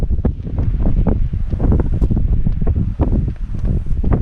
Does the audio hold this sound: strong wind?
yes